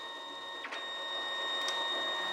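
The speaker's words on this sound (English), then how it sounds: "you can see your cleaning card getting shuffled in and out" An HDP5000 card printer running a cleaning cycle, a steady mechanical whine with tonal hum as the cleaning card shuffles in and out, broken by two brief motor sweeps.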